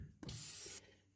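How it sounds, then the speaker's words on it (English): Short, close hiss of Liquid Wrench rust inhibitor sprayed from a can onto a new wheel bearing on a Pontiac G6, one steady half-second burst. "Now I'll give her a shot of this liquid wrench rust inhibitor."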